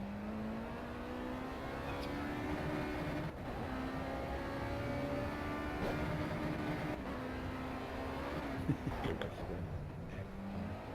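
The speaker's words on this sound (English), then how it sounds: "racing go-karts against each other" Go-karts racing each other in Project CARS, engine whine rising and holding with steady revving and a faint passing whir, quiet and continuous, with speech at low level throughout.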